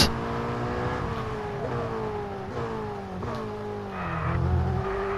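A Ferrari F8 Tributo supercar engine in F1 22 drones steadily and close, its pitch falling and climbing through several gear changes.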